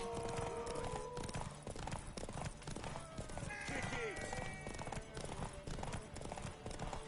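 Steady clip-clop of horse hooves in a video game with an occasional whinny, beneath voices and busy game-like background sound.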